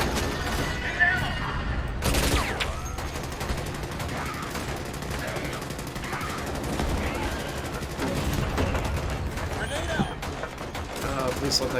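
Rapid automatic gunfire and heavy booms pound away while shooting at bugs in the video game Starship Troopers: Extermination, dense, overlapping bursts continuing for the whole stretch amid other busy game noise.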